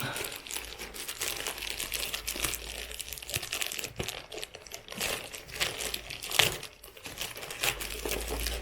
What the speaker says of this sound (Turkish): Şimdi son bir kargom daha geldi bu sabah. Onu da sizlerle açalım hemen. Şuradan açayım.